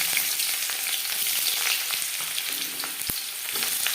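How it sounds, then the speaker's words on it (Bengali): Onions frying in hot refined oil for a taro root dish, a loud, steady hiss and sizzle with small crackles and a few soft ticks from stirring. "পেঁয়াজ হালকা করে ভেজে নেব।"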